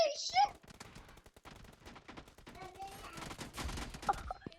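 Rapid bursts of gunfire in the mobile battle royale game PUBG Mobile crackle through the clip, with dense volleys in the second half, while a voice talks excitedly over the shooting.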